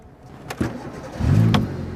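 A car engine cranks and catches, then settles into a steady mid-range run as the vehicle pulls away, with a couple of sharp clunks like doors or gear before the engine rises.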